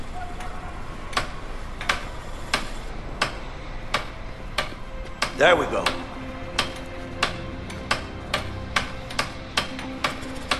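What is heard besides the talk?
hammering in the video game A Way Out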